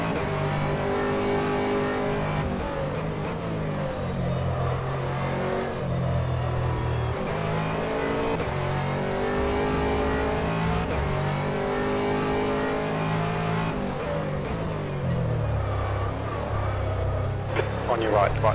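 Aston Martin GT3 race car engine from the rFactor racing game at Silverstone, a continuous loud revving drone with shifting pitch through gear changes, steady throughout with a radio-style voice speaking over it.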